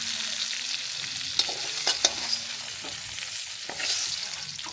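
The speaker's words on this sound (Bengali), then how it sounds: "দ্বিতীয় ধাপে বাকি মাছটা ভেজে নিচ্ছি" Pieces of silver carp fry in hot oil with a steady, bright sizzle, broken by a few sharp clicks and taps as they are stirred and turned in the pan.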